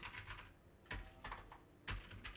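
Typing on a computer keyboard while laying out a certificate in MS Word, with irregular bursts of key clicks and two sharper, louder keystrokes standing out, close and clear without talk.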